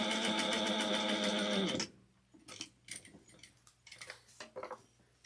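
Sewing machine back stitching a tote bag: a steady, loud mechanical whir for nearly two seconds stops abruptly, followed by soft clicks, taps and fabric handling.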